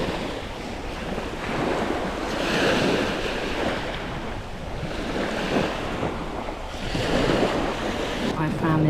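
Sea waves wash onto the sandy beach at Whitstable in steady, rolling surges. Some wind rumbles across the microphone, and the water stays close and fairly loud throughout with no talk.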